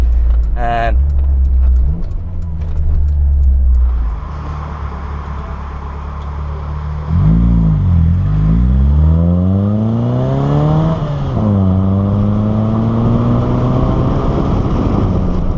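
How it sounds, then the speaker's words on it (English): An Austin Metro engine with a Maniflow exhaust rumbles close by with a deep exhaust burble, revving up and down several times over a low, steady idle. "at low revs it burbles. It really sounds quite beefy"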